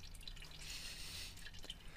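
Coolant from the cooling system of a BMW E32 drips steadily under the car, small close drops falling into liquid over a low background hum, with no talking.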